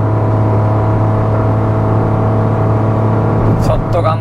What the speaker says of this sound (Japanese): エンジン結構うなってますよね